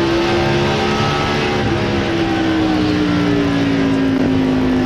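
NASCAR race cars lapping at the 2003 Pontiac Excitement 400, a steady loud engine drone with a slowly falling pitch running continuously as the field circles the track.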